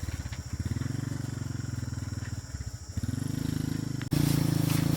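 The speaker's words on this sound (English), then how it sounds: "We start the engine and head back toward the forest, pushing from behind whenever the heavy load begins to slow us down." A small vehicle engine chugs in a fast, steady putter while towing a heavily loaded bamboo trailer along a narrow jungle trail, the note shifting and growing louder near the end.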